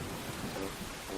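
Heavy rain pours down in an animated film about flooding, a steady, dense hiss that fills the whole moment without pause.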